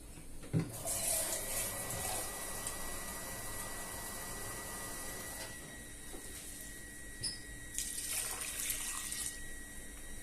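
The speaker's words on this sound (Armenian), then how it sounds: "Հիմա ջուրը լցնեմ" Water poured onto washed rice in a pot, a steady running splash that continues throughout, close and moderately quiet, with a few clinks near the end.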